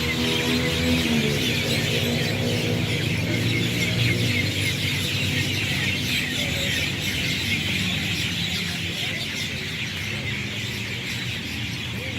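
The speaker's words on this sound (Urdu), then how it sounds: "چلو چھوڑو، چڑیوں کو سنتے ہیں۔" A dense chorus of sparrows chirps and squeaks without pause during a walk, loud and close, with overlapping calls filling the whole stretch.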